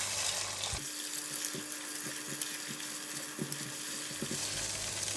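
Egg frying in a hot pan for prawn fried rice gives a steady close sizzle, with a spatula scraping and tapping against the pan at irregular intervals.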